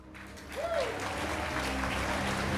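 Audience applause at a Dead by Daylight tenth-anniversary game broadcast, a steady dense wash of clapping from a crowd that stays loud and even throughout, with a brief whistle-like tone early on.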